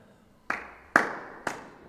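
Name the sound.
hand clapping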